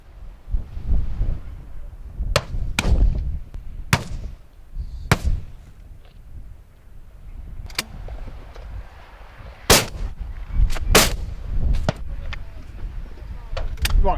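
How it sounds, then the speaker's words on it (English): Browning shotgun firing express cartridges at driven grouse in wind and rain, about a dozen sharp, loud reports spaced irregularly across the stretch, some in quick pairs, over steady wind rumble. "putting his Browning shotgun and express cartridges to good use"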